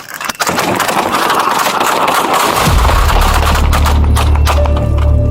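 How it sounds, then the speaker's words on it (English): Gunfire erupts during a roadside traffic stop by sheriff's deputies, a sudden loud burst followed by dense, sustained noise with a heavy low rumble, like rapid shots or an engine running nearby; no talk is heard. "Shots fired. Shots fired."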